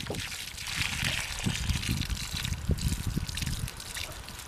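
Water pours and trickles steadily from a spout or container in a dishwashing setting, a continuous splashing stream heard close up with no talking.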